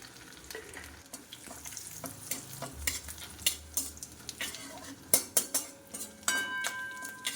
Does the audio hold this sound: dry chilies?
yes